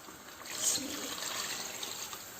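Water pours steadily into a pot of aloo gosht curry, a soft continuous splashing trickle, fairly quiet and brief with no talking.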